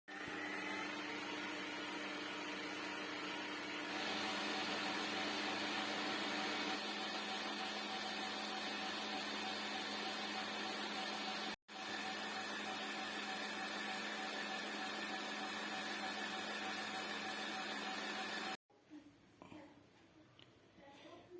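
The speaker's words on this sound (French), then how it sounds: "on va battre jusqu'à ce que le mélange double de volume à vitesse maximale" An electric mixer whirs steadily at maximum speed, beating eggs and sugar for a Molly cake. It runs continuously for about eighteen seconds, cuts out briefly once, then stops, leaving a quieter room with faint handling sounds.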